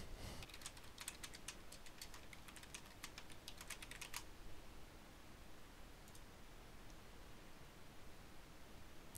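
Quick, light clicking of keys on a computer keyboard as a query is typed, a close rapid burst for about four seconds, then quiet room tone with one stray tap.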